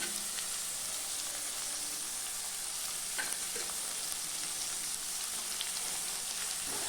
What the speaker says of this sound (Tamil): சேர்த்து நல்லா வதக்கி விட்டுறலாம்